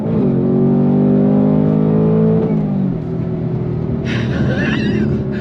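A 2024 Ford Mustang Dark Horse engine roars under throttle on a twisty road, pitch climbing then settling into a lower rumble, with a brief excited voice near the end.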